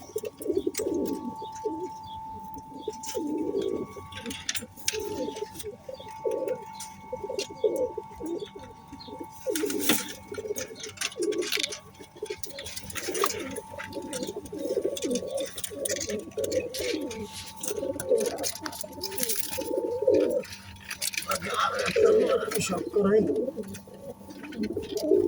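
Omani high-flying pigeons coo steadily in soft, repeated low phrases, close by, with someone talking over them throughout.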